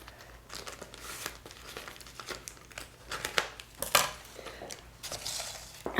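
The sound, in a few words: cutting sealed edge off plastic bag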